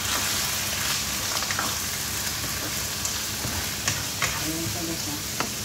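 Chicken liver fries in a pan with a steady, dense sizzle like light rain, broken by scattered clicks and scrapes of a utensil stirring through it, fairly close and with no talk.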